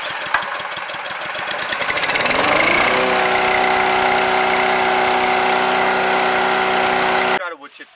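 A small petrol engine on an E700 Chipease wood chipper starting up, a quick chugging that rises into a loud, steady near roar with a harmonic hum, then cutting off abruptly at the end.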